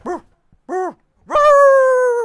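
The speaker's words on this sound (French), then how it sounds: "Les chiens la nuit quand j'essaye de dormir." Dogs bark at night: two short separate barks, then a longer drawn-out howl-like bark, all loud and close with no talk.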